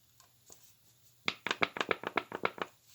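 An old, depressurized aerosol can of household cleaning product gives a run of about a dozen quick, rhythmic sputtering bursts, close and fairly quiet, after a couple of faint earlier puffs.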